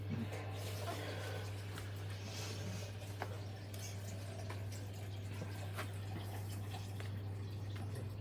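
Water drips from soaked slippers onto a floor, with scattered small ticks and drops spread unevenly over a steady low hum, faint and close, and no voice.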